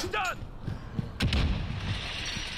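Gunfire in Call of Duty: Modern Warfare: a few booming shots land in quick succession near the middle, loud and close, over steady game ambience with a short whooshing effect at the start.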